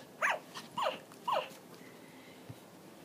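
A dog makes short rising whimpering or growling calls while playing with a toy dog: three quick bursts close together, then a faint thump, with no talk.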